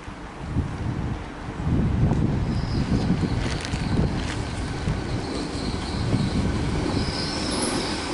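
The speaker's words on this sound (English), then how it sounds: "Here is the train." A train rolls into Lincoln station with a heavy rumble, wheels squealing faintly on the rails as it slows, against wind noise and no talking.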